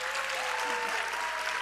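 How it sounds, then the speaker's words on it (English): An audience at a Bharatanatyam arangetram dance debut claps in a sustained, dense burst of applause that fills the hall evenly from start to finish. "Let us offer them a warm and well-deserved round of applause."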